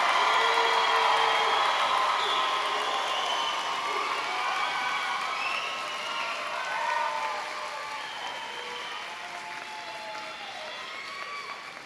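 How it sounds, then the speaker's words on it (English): An audience at a graduation ceremony for environmental studies students applauds the graduates, a soft, fairly distant spread of clapping with some cheering, gradually fading while voices murmur over it. "Please give a round of applause for this group of graduates."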